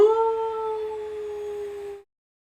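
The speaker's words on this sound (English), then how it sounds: "In the distance, you will also hear more howling, but it is far off." A single drawn-out howl, like a wolf, rings out in a tabletop war game's soundscape, steady and fairly faint, then stops abruptly into silence.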